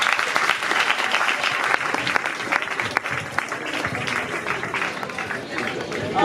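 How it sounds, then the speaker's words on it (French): An audience gathered for a school retreat at Collège Bosembo applauds in a steady, dense stream of clapping with a few sharper claps standing out, lasting throughout. "On peut applaudir."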